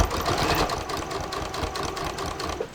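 Sewing machine stitching a hem facing on linen pants at a stitch length of about 3, a steady whirring, rattling motor drone with rapid needle clatter running continuously and close.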